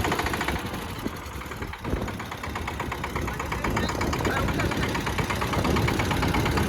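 A tractor engine idles steadily close by, its low mechanical rumble continuous through the whole stretch with a faint rhythmic pulsing; a brief dip occurs early, and a voice may be faintly present underneath.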